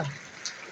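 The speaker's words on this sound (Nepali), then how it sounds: "यो फेरि नै पानी परेछ कि" Rain falling outdoors during a windy storm, a soft, steady hiss of drops lasting under a second, faint and close.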